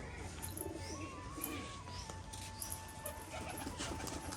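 Large display pigeons cooing while standing and performing, a soft continuous murmur with faint chirps over a steady, low background hiss.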